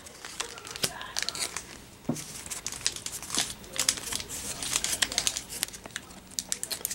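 A Pokemon Sword and Shield booster pack wrapper is torn open and crinkled by hand, with quick, close, fairly quiet crackles and rips in irregular bursts.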